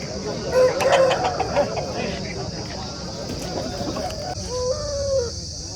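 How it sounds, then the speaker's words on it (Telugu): An Aseel rooster, a large red-hackled bird of about four kilograms, crows at a busy Saturday fowl market, with loud market chatter and voices all around it. "మంచి సైజు గల పుంజు"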